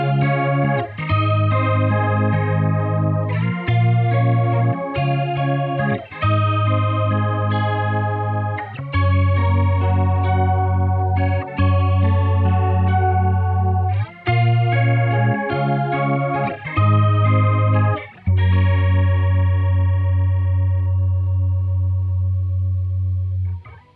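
A guitar plays chords through a Boss MO-2 Multi Overtone pedal, a shimmering, warbling pitch-modulation effect with rich layered overtones and short gaps between phrases.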